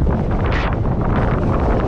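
Strong, wet, cold wind buffeting the microphone in a dense, roaring rush that holds steady for the whole two seconds, with no voices.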